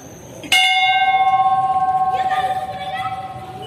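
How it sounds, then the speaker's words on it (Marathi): A large bell at the Vajreshwari Mata temple in Somthane is struck once, loud and close, then rings on with a long, pulsing metallic hum that slowly fades. "भव्य अशी घंटा"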